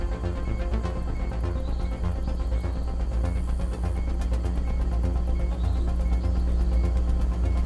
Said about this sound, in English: See, there's going to be a car.